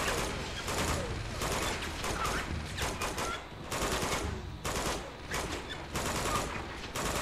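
Dense gunfire in Uncharted 2, rapid bursts of automatic weapons and overlapping shots in quick succession, loud and continuous with brief pauses between volleys.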